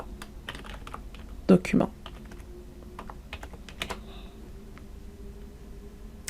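Rapid keystrokes on a computer keyboard as a message is typed into a client portal form, irregular clicks with a couple of louder taps, under a faint spoken word.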